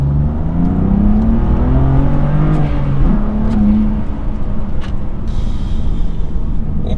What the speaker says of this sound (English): So second gear, I'm at 2000 RPM and put my foot down.